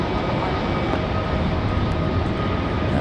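A JetBlue airliner rolling for takeoff on runway 5 at Raleigh-Durham International, a steady broad roar of jet engines heard from a distance, constant and unbroken with no voices.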